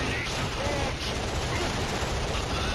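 Continuous gunfire and explosions in the KillZone 1 video game fill a short burst of battle, loud, dense and unbroken, with a voice faintly mixed into the din.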